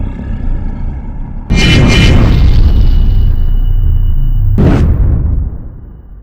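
A gunshot fired into the sky in a video game lands as a heavy, booming blast that rolls on for a few seconds, followed by a second sharp burst before fading out.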